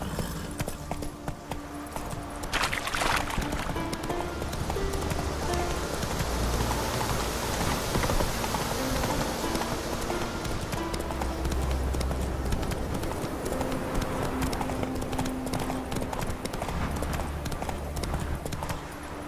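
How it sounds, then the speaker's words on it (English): A horse gallops in The Witcher 3 with a continuous rapid clip-clop of hooves under a steady rain-like hiss, close and sustained. "Whoa there, Roach. Faster"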